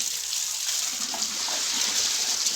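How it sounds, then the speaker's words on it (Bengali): Water running steadily as a container is filled in a rural outdoor cooking area, a constant close rushing hiss with no talk. "আর এই ধারে জল ভরা হচ্ছে"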